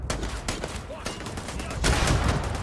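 Gunfire in the space-shooter game Starfield: rapid bursts of shots, like automatic fire, crackle continuously and grow louder toward the end, mixed with game sound and faint talk.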